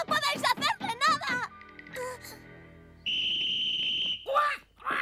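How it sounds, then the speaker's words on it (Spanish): A sharp, steady whistle blast sounds for about a second after children's shouting, followed by another brief cry. "Me ha parecido el mismo sonido que el silbato de Nils."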